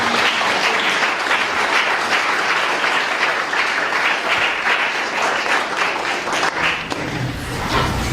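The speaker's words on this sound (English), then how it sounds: "all the athletes, the coaches, they all deserve a great round of applause" A roomful of people gives athletes and coaches a sustained round of applause at an evening meeting, dense and loud clapping that holds steady before thinning out toward the end.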